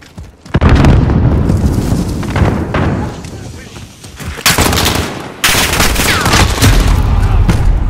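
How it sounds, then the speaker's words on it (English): Grenade explosion and bursts of gunfire in Call of Duty: Modern Warfare's Domination mode, loud booms and rapid shots layered over a continuous battle din, with player voices calling out. "Grenade out!"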